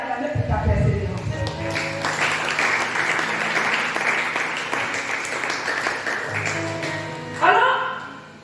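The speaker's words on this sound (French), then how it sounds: "je vais d'abord te demander d'acclamer pour ta persévérance" A church congregation applauds and cheers a person's perseverance, a sustained wash of clapping that swells and then fades, with voices rising over it near the end.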